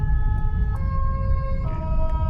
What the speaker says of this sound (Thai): รถพยาบาลมา